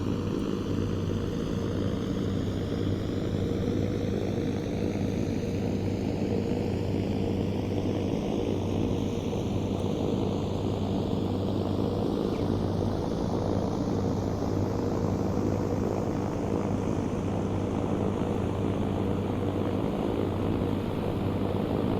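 An Eviation Alice electric aircraft flies at full power, giving a steady, loud propeller drone with a constant low hum and rising whine overtones that hold for the whole stretch, with no talk.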